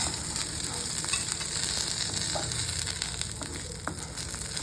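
Chana dal and black urad dal fry in a pan of hot oil, a continuous close sizzle with small crackles and occasional stirring scrapes, no voices.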